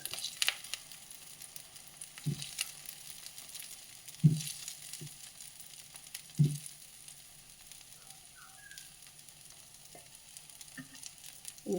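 A snack cooks in a thin layer of oil on a hot griddle stone, giving a quiet, steady sizzle. A few soft knocks break through it, and no one speaks.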